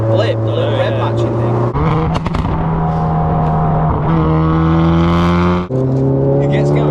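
A Hyundai i30N performance hatchback engine revs hard and pulls, its droning note stepping up and down through several loud, close pitch changes with brief dips between pulls.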